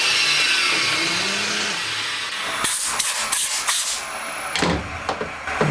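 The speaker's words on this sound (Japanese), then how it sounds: "1箇所ずつポンチマークをスコープで合わせていきます。" A center punch is tapped into marks on a motorcycle cam chain case for a four-cylinder Honda Monkey engine conversion, several sharp metallic taps in an irregular cluster after a quieter stretch of faint shop noise.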